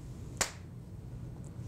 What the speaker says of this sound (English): I'm going to clap my hands, and I want you to point to where I clap my hands